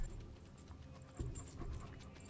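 A dog pants in quick, rhythmic breaths, moderately close, layered over a low background rumble, in a scene from the TV series Fallout.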